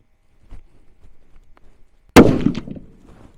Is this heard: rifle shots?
yes